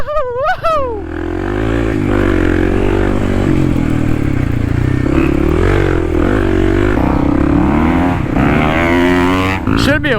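A Kawasaki KLX 300 dual-sport dirt bike rides a trail on a hot day, its engine droning loudly close up and rising and falling in pitch as it revs, with whoops and voices over it.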